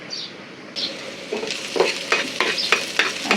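Dal is tempered on a home stove as hot spices hit the oil and sizzle, followed by a series of sharp stirring scrapes and clinks in an uneven rhythm, close and fairly quiet.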